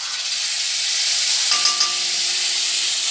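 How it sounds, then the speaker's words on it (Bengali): Ground cumin paste sizzling in hot oil, a loud steady hiss of frying with a faint metallic ring partway through, no voices. "কাঁচা জিরেটা তেলের উপরে দেবো।"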